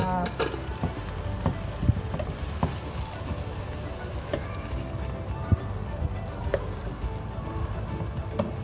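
Free-range chicken pieces being stirred with spices in a hot pan: a steady, close crackling sizzle with scattered soft clicks and scrapes from the stirring, continuous throughout.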